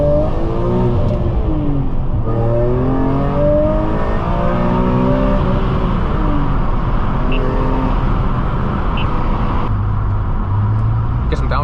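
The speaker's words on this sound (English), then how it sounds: "We'll have an acceleration here so you can hear the noise from first gear." A BMW E46 M3 CS accelerates hard in first gear, its engine note climbing repeatedly in loud rising sweeps heard from inside the cabin. Someone talks over the engine.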